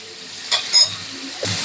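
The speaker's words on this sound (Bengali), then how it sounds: "এই যে খুব সুন্দর করে চিকেনটা ভাজা ভাজা করে লইছি।" Chicken pieces fry in a pan as spices like white pepper and salt are added, giving a soft sizzle with a few brief stirring scrapes and clinks, close and fairly quiet.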